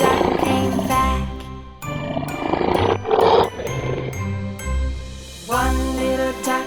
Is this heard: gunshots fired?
no